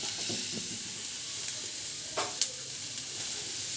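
Karchikayi roasting in a pan with steady soft sizzling and a few scraping stirs, one sharp clink near the middle, close and without talk.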